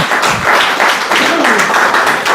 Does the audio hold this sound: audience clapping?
yes